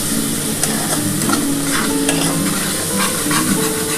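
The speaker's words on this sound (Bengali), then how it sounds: "অল্প করে জলটা দিতে থাকবো আর কষাতে থাকবো।" Spice paste for katla fish curry with curry leaves being stirred and sautéed in a pan, a steady close sizzle with repeated scraping strokes of the spoon, no voices.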